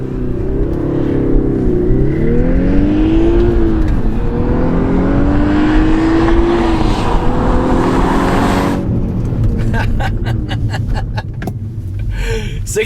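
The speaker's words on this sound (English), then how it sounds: "0 to 60 on the Mark 6 Volkswagen" A Mark 6 Volkswagen Golf R launches from 0 to 60, its engine rising loud and close through a couple of gear changes before easing off, with a voice heard briefly near the end.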